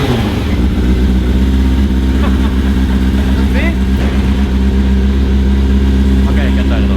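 A motorbike engine idling nearby, a loud, steady low rumble with a slight rev partway through, running on without break.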